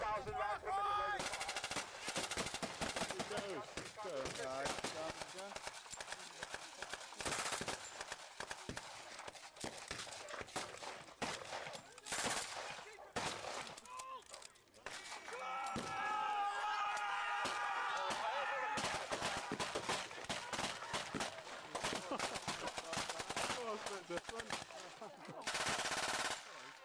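Two German machine guns fire at a WW2 battle reenactment in the open: long sustained bursts of rapid gunfire fill nearly the whole stretch, loud and continuous with brief pauses and a narrator's voice faintly underneath.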